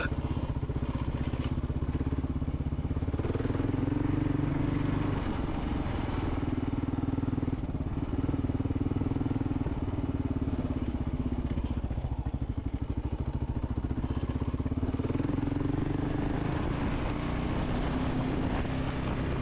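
Kawasaki KLR motorcycle riding through Jeep ruts, a steady low engine drone with a rough, rumbling undertone that holds at a constant level throughout with no voices.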